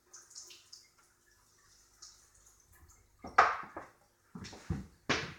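Water trickling and splashing as a glass boiling tube is wetted in a lab, a few faint drips at first, then louder bursts of pouring and splashing near the microphone.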